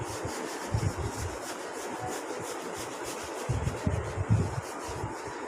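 Steady rubbing across a classroom board while wiping it clean, a broad scraping swish with heavier strokes pulsing in uneven bursts, close and alone with no talk.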